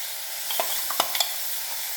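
Ground tomato sautéing with onions in hot oil makes a soft steady sizzle, with a few quick spatula scrapes and taps clustered in the middle, no voices.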